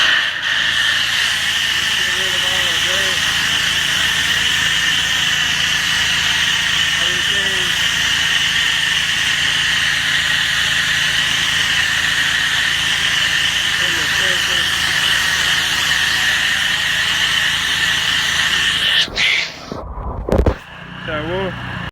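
A pressure washer rinses during post-construction cleaning, giving a loud, continuous hissing spray with a steady motor hum for about twenty seconds, while a person talks faintly underneath, then ends with a few sharp bumps.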